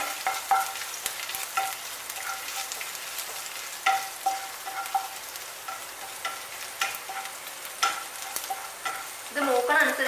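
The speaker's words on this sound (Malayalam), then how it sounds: "ഇഞ്ചിയും വെളുത്തുള്ളിയും കൂടി നമ്മൾ നന്നായിട്ട് നമ്മൾ വഴറ്റി കൊടുക്കണം." Ginger and garlic sauté in a pan for chicken cutlets, with a steady sizzle under frequent scraping strokes of a spoon stirring them, close and fairly loud with no talk.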